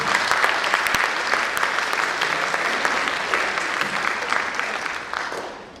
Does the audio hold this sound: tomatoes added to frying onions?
no